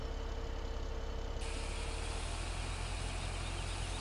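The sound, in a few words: tractor engine revving in Farming Simulator 17 video game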